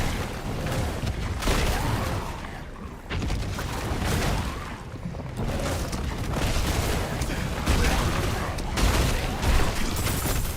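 Loud, continuous barrage of explosions and booming blasts from a Diablo expansion battle against demons, dense overlapping bursts rolling on for the whole stretch with brief dips, with a voice briefly audible underneath.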